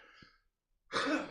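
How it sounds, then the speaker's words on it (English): A person clears their throat hard, one short harsh rasp near the microphone after a brief quieter breathy sound and a moment of silence, heard alone with no talking. "it was a hard clearing of the throat"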